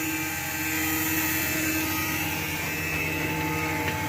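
A Jet drum sander running with its conveyor belt, a steady loud whirring machine drone with a continuous hum, unbroken and close throughout.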